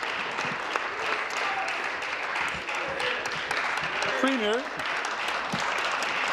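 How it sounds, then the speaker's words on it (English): Applause in a legislative chamber during question period, a steady wash of clapping from the members with voices talking over it and a short spoken phrase partway through. "Thank you for those applause."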